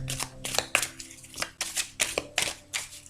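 Tarot cards shuffled by hand in a riffle-like rhythm, about eight crisp bursts of papery slapping and fluttering, close and fairly loud, with no talking.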